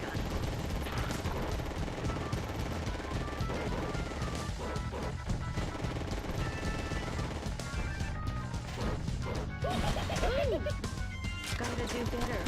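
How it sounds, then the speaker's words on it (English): The super machine gun in Contra Hard Corps Uprising fires in dense, continuous bursts alongside in-game explosions and effects, with people talking over the gunfire throughout. "Super machine gun."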